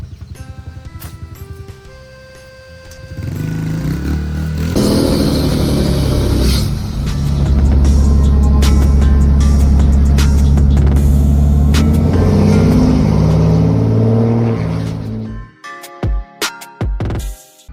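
A loud diesel race truck engine on nitrous at a race track roars up and revs hard, holding a deep sustained rumble before cutting back, with a few sharp bursts at the end.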